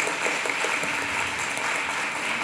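Audience applause at a culture exhibition event, a dense steady clapping from a crowd with no voices over it.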